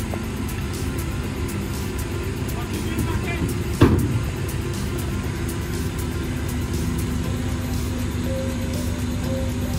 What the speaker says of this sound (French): il y a des bagnoles qui arrivent